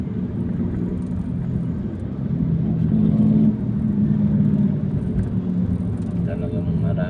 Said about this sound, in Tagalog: Talagang maraming sasakyan ang Pilipinas.